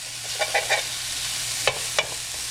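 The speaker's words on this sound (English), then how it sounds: "We're going to put these in here, and we're going to sear both sides." Pork bites searing in a smoking-hot pan give a continuous loud sizzle, broken by several soft crackles and a couple of sharper pops, with no talking.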